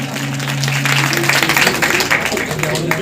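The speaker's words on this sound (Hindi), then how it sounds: "ताली बजाओ जोरदार तालियों के साथ" A crowd at a Hindu religious gathering marking a sannyas day ceremony breaks into loud, dense clapping that carries on for a few seconds, with a voice speaking over the applause.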